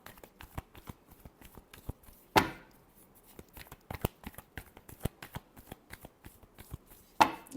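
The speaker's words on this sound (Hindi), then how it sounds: "last shuffle" A deck of tarot cards is shuffled by hand, with soft flicking taps throughout and two sharp riffles that cascade and fade, close and fairly quiet.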